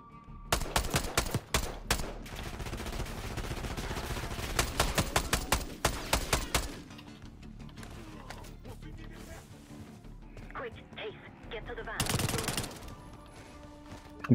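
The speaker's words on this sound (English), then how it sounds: "I am slaying one with the semi-auto right now." Semi-automatic gunfire in the Black Ops 6 campaign, sharp loud shot bursts in quick bunches for the first seven seconds, then quieter game ambience, scattered impacts and another short burst near the end.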